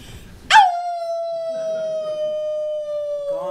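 Dog lets out a single long, steady howl that starts with a sharp rise and holds one drawn-out tone for about three seconds, loud and close, ending with a short break in pitch.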